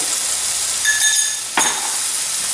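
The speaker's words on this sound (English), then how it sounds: "I'm going to add a couple of spoons of gluten-free ready mix. I'm just going to stir it up." A spoon stirs gluten-free ready mix in a pan while cooking a beef pot roast, giving a steady sizzle with a few light metallic clinks, no talking.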